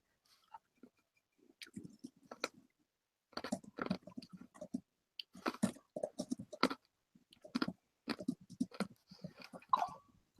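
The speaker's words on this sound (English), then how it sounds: "I do have a cough drop in my mouth if you guys hear me crunching" Someone crunches a cough drop between their teeth in a quiet room, with short, sharp bursts of crackly chewing coming in irregular clusters, close to the mouth and alone.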